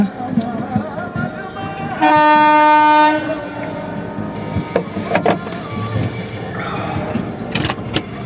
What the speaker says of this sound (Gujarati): તો આમથી ટ્રેન આવતી ગણાય છે